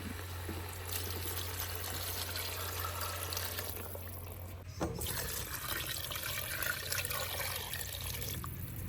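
Water poured into a pot for biryani with drumstick, a continuous close pouring and trickling that shifts in tone partway through as the pot fills.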